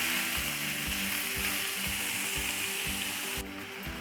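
Minced chicken frying in a pan for chicken patty filling, a steady dense sizzle over a rhythmic low clatter of stirring that keeps on throughout, easing slightly in the last half second.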